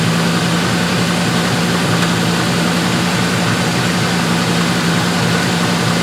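A Range Rover engine runs at a raised idle, a loud steady drone and hum that holds unchanged throughout with no speech.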